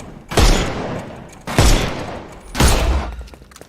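Three loud gunfire bursts ring out in the video game Sherlock Holmes Chapter One, each a heavy volley with a booming low tail, spaced about a second apart and close up.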